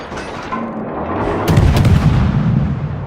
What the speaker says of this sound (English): He's only got his front guns and he's firing AP.